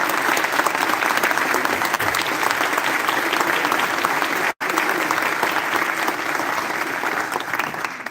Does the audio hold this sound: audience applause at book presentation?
yes